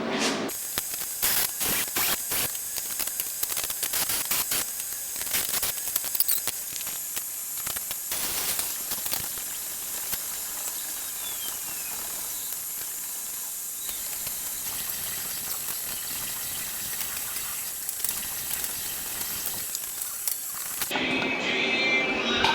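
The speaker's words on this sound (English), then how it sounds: "I'll just fill them in and plug weld it" Plug welding fills drilled holes on a Harley-Davidson Panhead chopper frame with a steady, crackling, hissing MIG arc that sizzles in bursts with short pauses, running close and continuous for about twenty seconds before cutting off.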